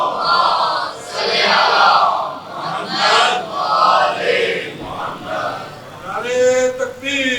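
Audience at a religious majlis reciting salawat together, a loud murmuring chorus of many voices swelling and fading in waves, with a few louder voices rising near the end.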